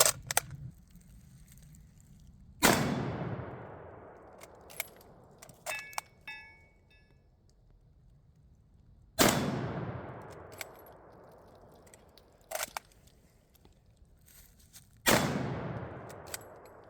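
A C-Grade Royal Tiger Imports No.1 Lee-Enfield SMLE rifle fires PPU .303 rounds at an outdoor range, three loud sharp reports with long echoing decays, separated by metallic bolt-action cycling clicks.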